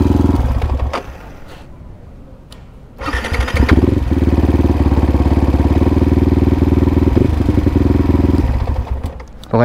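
A Honda HR-V engine cranks roughly on the starter and catches, then settles into a steady, smooth idle running loud and close for several seconds with no talk.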